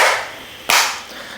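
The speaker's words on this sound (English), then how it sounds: "I got to clap first." A single sharp hand clap rings out close and loud, briefly following the fading tail of an earlier sound, then quickly dies into quiet.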